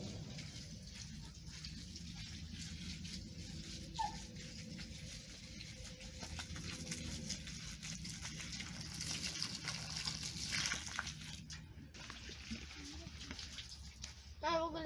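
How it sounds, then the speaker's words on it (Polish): Lime water is poured over garden soil, a soft, steady trickle and gush of liquid that continues throughout with small splashes and faint shifting noises close by. "podlać tą ziemię z tym wapnem"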